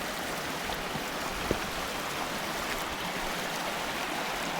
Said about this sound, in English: Check out this bit of the waterfall here.